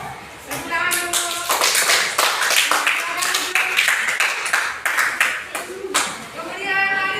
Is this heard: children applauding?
yes